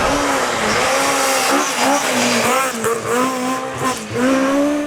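A Ford Mark II Escort races up a hillclimb course, its engine loud and close with rising and falling revs through gear changes and a brief tyre squeal, with no talking.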